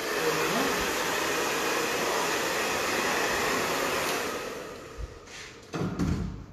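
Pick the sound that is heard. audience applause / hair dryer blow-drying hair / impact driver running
hair dryer blow-drying hair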